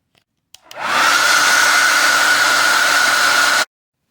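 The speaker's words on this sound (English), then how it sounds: "I'm going to heat this up with the blow dryer for a minute" A blow dryer runs to heat double-sided sticky tape, switching on with a click and holding a loud, steady whooshing roar for about three seconds before cutting off abruptly.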